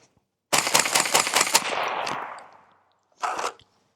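Suppressed CMMG 5.56 rifle with a sealed can fires a rapid string of sharp, loud cracks that ring off into a fading tail, followed after a pause by one more short burst.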